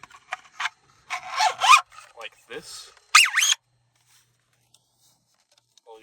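A front guard being slid onto a model lever-action gun, the Deadlock Silver Lever Action, makes harsh scraping and rubbing bursts of varying length, close and fairly loud, with a brief spoken phrase among them.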